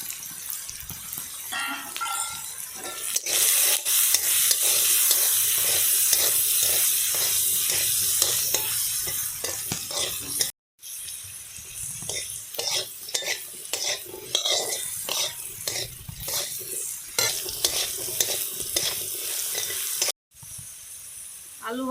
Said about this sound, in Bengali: আলু ভাজা হয়ে গেছে, নামিয়ে নেব।